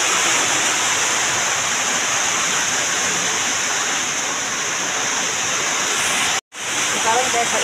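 Heavy rain pours steadily outside, heard close as a dense, even hiss with a brief drop-out near the end and no clear talk.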